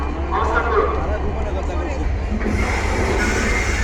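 An intercity train at Joydebpur station sends a low, continuous rumble under busy platform bustle, with a brighter hiss of wheels or brakes rising in the last second and a half; voices carry over it.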